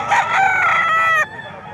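A gamefowl rooster crows once, close and loud, its call rising and then breaking off sharply, with faint background noise after.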